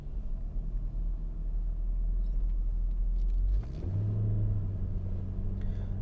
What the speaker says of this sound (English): This V8 definitely sounds great,